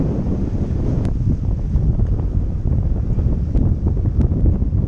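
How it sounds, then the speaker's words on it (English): Strong wind buffets the microphone throughout, a constant low rumble with gusting swells and occasional crackles. "Hope you guys can actually even hear me because it's really windy."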